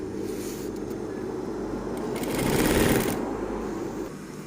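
Sewing machine topstitching a seam, a steady close mechanical whir that swells louder around the middle before easing off, with no talk.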